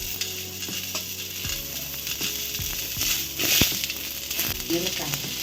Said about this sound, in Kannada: ಈಗ ಸ್ವಲ್ಪ ಈರುಳ್ಳಿನ ಫ್ರೈ ಮಾಡಬೇಕು ಈರುಳ್ಳಿ ಹಾಕ್ತಾ ಇದ್ದೀವಿ